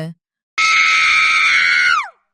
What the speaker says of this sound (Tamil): திடீரென ஒரு பயங்கர அலறல் ஒலி கேட்டது.